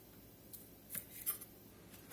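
Chives snipped with scissors for a steakhouse wedge salad, a few quiet crisp snips spread irregularly over a near-silent background.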